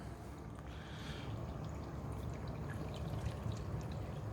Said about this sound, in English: I'm pretty good with pouring fluids